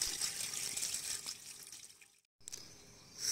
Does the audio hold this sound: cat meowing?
no